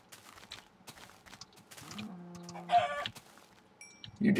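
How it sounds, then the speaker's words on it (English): Chickens clucking in the Minecraft video game, a few short separate clucks amid light background game sounds, with a louder burst near the end. "Chicken!"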